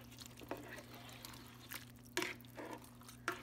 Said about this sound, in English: I'm gonna give it a stir.